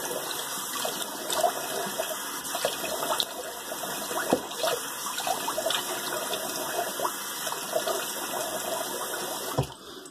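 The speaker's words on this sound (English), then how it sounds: "let's let that water out and do a cold water rinse" Water gurgles and trickles steadily as it drains from a sink, a continuous close splashing wash with a brief knock near the end.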